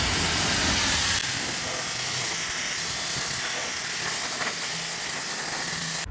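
A pressure washer blasts a car's front bumper in a loud, steady hissing spray that runs without pause, slightly heavier at the start, with no talk over it.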